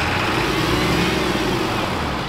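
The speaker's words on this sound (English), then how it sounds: "Rev it to the moon!" A custom 4-link Ford Bronco desert race truck revs its engine hard, a loud, steady, close roar that holds its level without a break.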